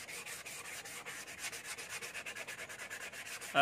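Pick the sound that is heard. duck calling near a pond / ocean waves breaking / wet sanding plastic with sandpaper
wet sanding plastic with sandpaper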